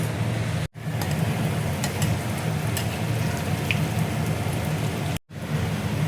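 Paneer pakoras fry in hot oil with a dense, steady crackling sizzle throughout, close and loud, broken by two brief dropouts.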